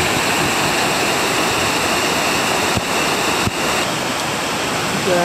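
Waterfall beside the Overland Track, a steady loud rushing roar of falling water, continuous and unbroken, with no voices.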